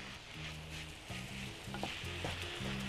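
Ground meat stirred in a little oil in a pan gives a soft, steady sizzle with faint stirring scrapes, quiet throughout and with no talk.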